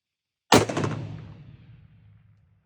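A single rifle shot fired at a long-range target, a sharp loud crack followed by a rolling echo that fades over two seconds.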